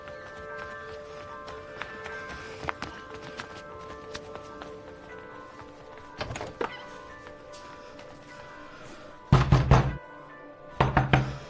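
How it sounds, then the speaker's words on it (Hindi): Knocking on a door in quiet indoor surroundings, a short knock around the middle followed by two louder bursts of rapid raps near the end. "रिंकू दरवाजा खोल ना भाई"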